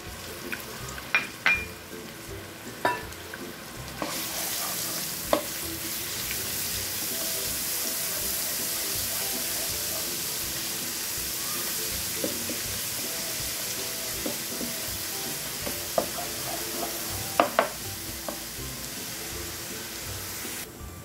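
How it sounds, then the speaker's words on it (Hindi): Ginger garlic paste hits hot oil in a karahi for Balochi chicken tikka, setting off a loud, steady sizzle that holds throughout, with a few sharp utensil clinks and stirring knocks nearby. "अब मैं इसमें तकरीबन 1 टेबलस्पून जिंजर गार्लिक पेस्ट डाल दूँगी।"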